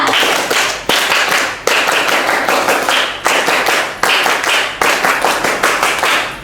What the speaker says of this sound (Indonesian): semuanya 2 kali tepuk pramuka